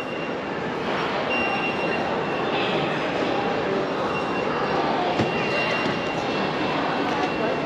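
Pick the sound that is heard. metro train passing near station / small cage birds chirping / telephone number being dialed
metro train passing near station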